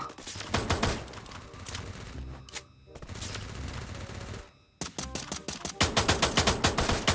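Rapid automatic gunfire from a Free Fire match, bursts of fast shots repeating through the whole stretch, loud and close, with brief pauses between volleys and a dense final burst.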